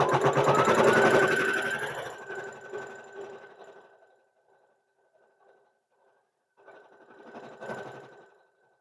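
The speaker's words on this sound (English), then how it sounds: "Now that we've got it all buckled into place, let's go ahead and do our stitch down." An embroidery machine stitches down a mug rug in a hoop frame, a fast loud mechanical whirring for about two seconds that trails off into sparse ticks, then resumes more softly for another short burst.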